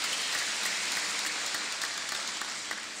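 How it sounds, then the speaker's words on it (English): Applause from an audience at a university graduation ceremony in Malawi, a steady, dense clatter of many hands that holds evenly for a few seconds with no voices. "So a round of applause for Mr."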